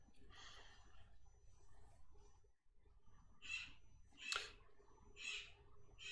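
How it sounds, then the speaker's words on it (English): A bird calls repeatedly in the background, several harsh, bright squawking bursts spaced a second or so apart, moderately loud over a low steady room hum. "Sorry if you can hear the bird in the background."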